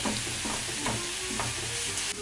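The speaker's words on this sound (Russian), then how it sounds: "Лучок с морковкой и со сладкой перчинкой обжаривался" Chopped onion, carrot and sweet pepper fry in a pan for zucchini caviar, giving a steady close sizzle broken by a few scraping stirs, with no voices.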